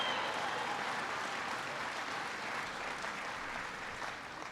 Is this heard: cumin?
no